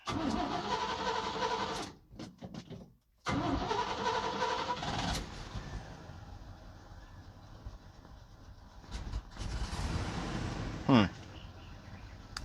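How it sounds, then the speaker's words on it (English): A 1984 Chevy C10 pickup engine cranks and starts after a brief gap, then settles into a steady idle, heard close up with some talk around it. "So let's start up the truck and see if I get a reading."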